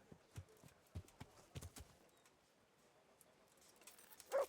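Horse in the video game Kingdom Come: Deliverance, a run of soft hoof clip-clops in the first two seconds, then quiet, ending with a brief faint snort or whinny.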